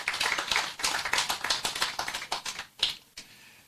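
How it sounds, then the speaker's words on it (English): At the official opening of an NCI branch office in Nevis, a modest crowd applauds the staff with brisk, close clapping that thins into a few scattered last claps before stopping. "Please give them a round of applause."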